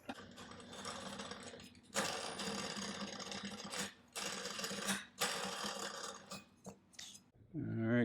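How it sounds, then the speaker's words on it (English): Clutch spring compressor compressing the clutch spring of a 2024 Polaris RZR XP 1000 during a Dalton clutch kit install, giving off close, grinding mechanical bursts broken by short pauses. "Then we're going to take our spring compressor"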